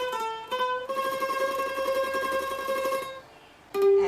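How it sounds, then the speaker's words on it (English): A bandurria, a Philippine plucked string instrument, plays the folk tune Paro-Parong Bukid, with bright tremolo-picked notes ringing out clearly over a few seconds and a short pause before another note. "so that's the sound of banduria instrument"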